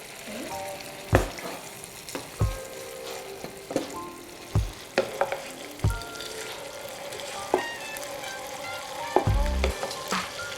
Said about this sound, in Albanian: Sa të skuqen pak me njëra tjetrën.